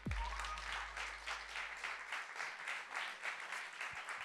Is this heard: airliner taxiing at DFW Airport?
no